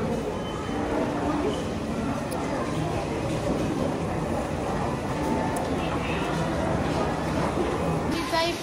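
Rumble of a train at a station in Okinawa, Japan: a steady, fairly quiet rolling roar that holds throughout without clear breaks, heard from the platform.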